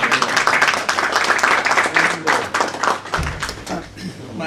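Dense clapping from a crowd at a book launch in Bacău, a sustained round of applause that thins out toward the end, with some voices mixed in.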